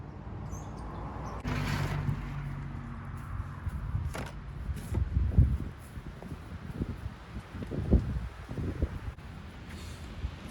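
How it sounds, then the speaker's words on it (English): Strong outdoor wind gusting against the microphone at a firewood operation, low buffeting rumbles swelling and fading in bursts, with rustling and a few scattered thumps. "It's super windy today"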